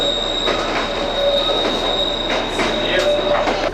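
A narrow gauge train between Hekou and Kunming in China runs along the rails, steady close rumble topped by high-pitched wheel squeal and intermittent clacking.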